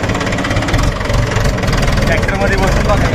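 A steady, close diesel rumble from a tractor engine running on a farm, with a knocking mechanical texture, continues under people talking.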